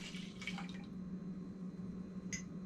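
Warm water poured into half a cup of milk in a home kitchen while proofing yeast for bread: a short splashy trickle near the start, then a steady low hum.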